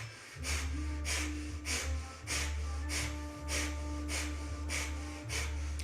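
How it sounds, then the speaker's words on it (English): Rapid, sharp breath-of-fire exhalations in a Kundalini yoga session, about ten forceful nasal puffs in a steady rhythm, close and clear over a low continuous background hum. "The breath here will become like a breath of fire, exhaling as a hand comes in."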